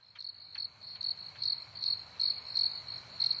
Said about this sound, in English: Crickets, as we say.